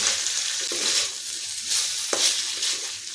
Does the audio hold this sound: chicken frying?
yes